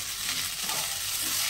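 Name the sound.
onion sizzling as it is added to frying beans and potatoes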